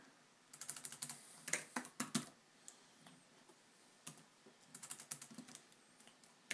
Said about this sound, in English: for this demonstration, I'm just gonna use the typewriter